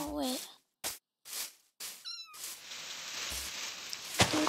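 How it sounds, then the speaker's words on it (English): A Minecraft cat gives a short rising meow in the middle of game sound, with rainy background hiss and scattered bursts of speech before it. "Little kitty."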